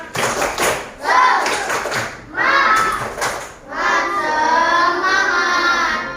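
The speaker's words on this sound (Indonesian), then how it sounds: "Oke, kita tepuk semangat dulu. Tepuk semangat." A classroom group performs a rhythmic cheer clap in bursts, with children's voices chanting and calling out between and over the claps, loud and close throughout.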